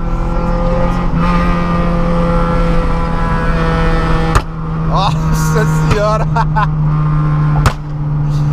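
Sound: carbureted Chevrolet Kadett engine with straight exhaust

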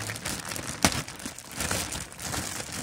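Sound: opening a taped plastic bag

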